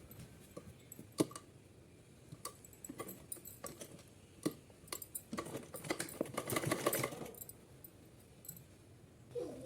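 A sewing machine sews a straight stitch on folded cotton fabric, with faint clicks and short mechanical taps, then a denser run of stitching near the end, quiet and close, with no voices.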